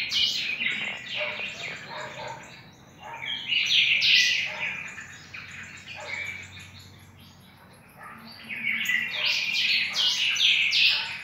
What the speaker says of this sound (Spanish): Ahí está el pica hueso que atrapé hace 3 semanas acá en casa. Ahí está cantando ya.